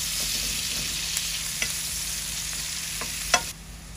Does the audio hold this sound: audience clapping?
no